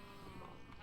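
Sheep bleating on a video game farm with cows, pigs and horses, a steady, soft livestock murmur throughout with no talk.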